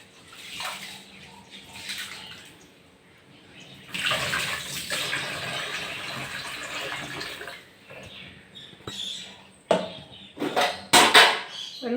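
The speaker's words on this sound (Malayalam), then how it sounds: "അരി നല്ലതുപോലെ ഒന്ന് കഴുകുക." Rice is swirled and rinsed by hand in water in a home kitchen, with sloshing and splashing rising in bursts and short clinks of a pot, close and fairly loud with pauses in between.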